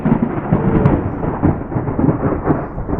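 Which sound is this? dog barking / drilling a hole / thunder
thunder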